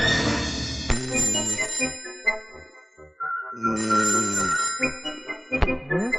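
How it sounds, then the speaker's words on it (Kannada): A telephone ringtone plays in a film scene, a loud, clear electronic melody repeating in bursts with a short pause between phrases. "ಸರ್ ಫೋನ್ ಬರ್ತಾ ಇದೆ ನೋಡಿ"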